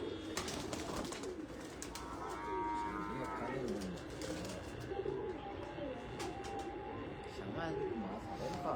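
Plain pigeons kept for flying coo in a low, rolling murmur amid a busy outdoor loft, with people talking nearby throughout.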